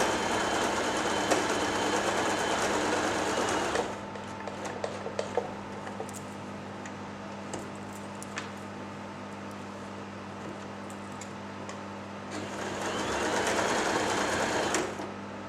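Janome J3-18 sewing machine stitching in two steady motor-driven bursts, a close buzzing whir at the start and again near the end, with a quieter pause between.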